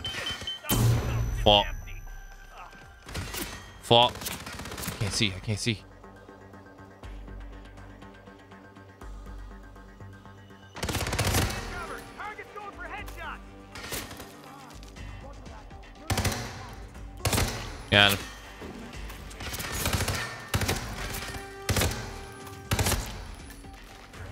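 Assault rifle fire in the video game Hitman comes in loud, punchy bursts and single shots with heavy thuds, spread across a tense firefight, with someone talking in between.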